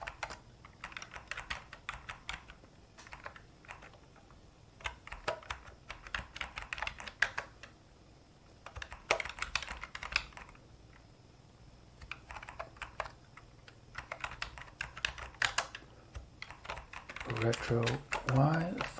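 Bursts of rapid clicky keystrokes on a Sinclair QL computer keyboard come in clusters separated by short pauses, close and fairly quiet, with a voice speaking briefly between the typing runs.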